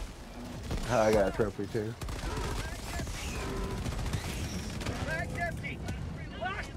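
A big gun fires in the Helldivers 2 video game, a dense rattle of rapid shots that runs steadily under loud talking voices throughout.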